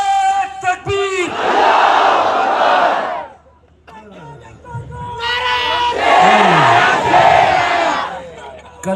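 A large rally crowd roars a slogan back in unison in two loud, sustained bursts, each answering a call, with a short lull between them and a voice calling out; the setting is a political gathering in Nashik.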